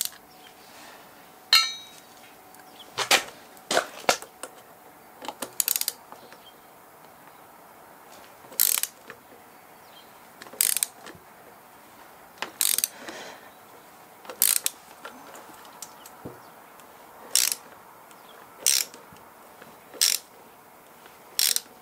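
A ratchet wrench works loose a stuck bolt on an Alfa Romeo engine, giving short bursts of close, sharp clicking at fairly regular intervals over a quiet garage background.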